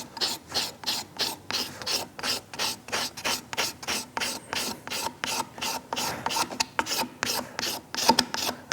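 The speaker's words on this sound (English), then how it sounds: "The flexible scraper is great for the bowl." A flexible steel scraper works the bowl of a carved wooden spoon in steady, even rasping strokes, about three per second, close up and with no talk.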